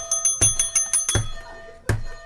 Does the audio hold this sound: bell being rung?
yes